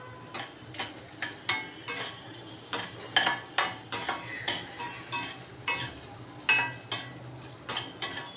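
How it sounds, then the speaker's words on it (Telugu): Raisins frying with cashews in a pan for carrot halwa, a steady sizzle under rhythmic scraping stirs of a spoon against the pan, close and repeated about every half second. "సిమ్లో పెట్టి వేగుతుండగానే కిస్మిస్ వేసేస్తాను."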